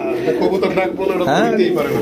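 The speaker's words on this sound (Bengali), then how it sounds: "মাশাআল্লাহ দেখেন সব কয়টা কবুতর ডাকবার" Pigeons cooing in a home loft, low throaty coos running under a man's loud, continuous talking.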